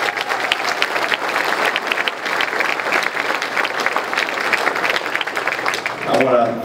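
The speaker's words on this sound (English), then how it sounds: "Let's give yourselves a big round of applause." Big round of applause from the audience at a Taste of Maryland Agriculture evening event, a dense, steady wash of clapping that carries on throughout and swells slightly near the end.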